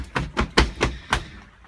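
A door on a Buccaneer 5-berth caravan being opened in the rain, a quick run of five close knocking clunks and rattles as the latch and door move, ending quietly.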